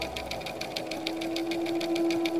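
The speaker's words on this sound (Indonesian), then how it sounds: "Itu suara mesin jahit" A sewing machine runs steadily in a textile factory, its needle mechanism clattering in a fast, even pulse of roughly five beats per second over a constant motor hum, moderately close and alone.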